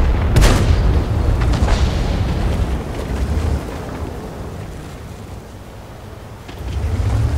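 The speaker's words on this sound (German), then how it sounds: "Und ganz viele, ganz viele große Kanonen." Deep booming cannon blasts in a video game, a loud burst near the start followed by rumbling low thuds and wind-like noise, with another low boom swelling at the end.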